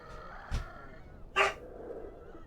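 A pet dog barks at a pizza delivery: two short, sharp barks about a second apart, the second louder, heard from a moderate distance over quiet room tone.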